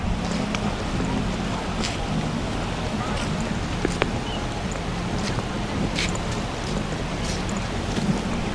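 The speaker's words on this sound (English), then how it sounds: "The sound of the water, the feel of the wind" Water and wind around a villa among Bali rice fields: a steady broadband rush with gusty low-frequency wind buffeting, continuous and fairly close, with a few faint clicks scattered through.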